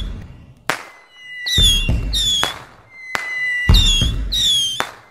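Whistling fireworks in a Five Nights at Freddy's game Christmas special streak upward and burst in sharp cracks, two rounds of several pops each, loud and close with brief pauses between volleys.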